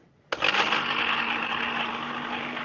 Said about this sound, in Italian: il rumore del frullatore